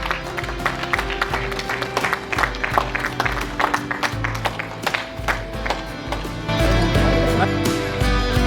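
An audience claps at the Kalptaru Awards 2022 ceremony, a dense run of many hands with uneven bursts that swell louder near the end, with faint voices underneath.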